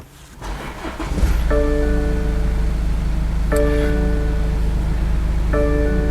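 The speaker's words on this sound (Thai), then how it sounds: "เสียงเครื่องก็จะประมาณนี้นะครับ" A car engine cranks and catches, then settles into a steady low idle with a faint repeating chime over it; no one speaks.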